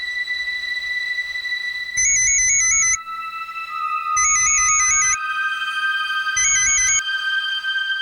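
Phone ringback tone repeating while a call goes through, three bursts of warbling electronic ringing separated by short pauses over a faint steady background tone.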